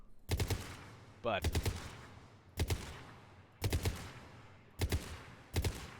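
Powerful gun firing in the Mass Effect 3 video game, with six quick bursts of two or three sharp shots each at roughly even intervals, under a brief word of commentary.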